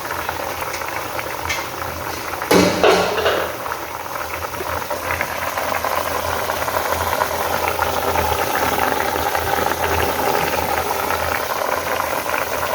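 A pot of milkfish bubbles at a steady simmer, with a brief clatter of a lid near the start and a constant low rumble underneath.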